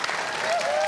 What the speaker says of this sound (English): you can hear down here, I'm sure, our crowd on the floor in Sydney